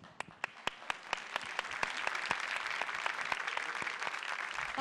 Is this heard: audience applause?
yes